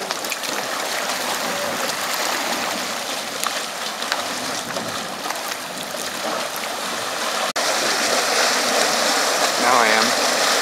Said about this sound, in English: The rumbling sounds are caused by steam and other gases exploding through the water, causing it to crash against the walls of the hidden caverns.